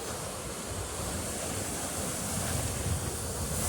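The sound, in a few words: ocean waves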